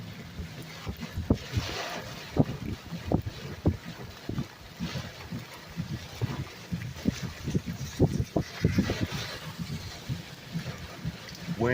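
Strong straight-line winds of about 70 mph during a tornado warning in Branson West, gusting and buffeting a microphone in irregular bursts, loud and close, shifting direction, with no talking.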